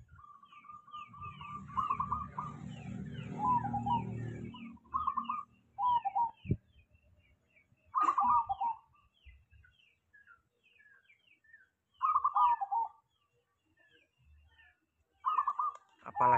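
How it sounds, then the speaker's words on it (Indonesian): A zebra dove in a black cage coos loudly in short repeated phrases separated by pauses. The clear, carrying calls stand out against low background noise. "suara perkutut ini terdengar keras, nembak jauh"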